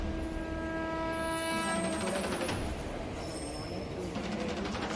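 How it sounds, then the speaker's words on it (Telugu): A train arriving at a station platform rumbles steadily close by while a long horn blast sounds, then fades under continuous rail noise and clatter. "మా ట్రైన్ ఫిఫ్త్ ప్లాట్ఫామ్ మీదకి మేము వెళ్ళాల్సిన ఊరి ట్రైన్ అయితే వచ్చింది"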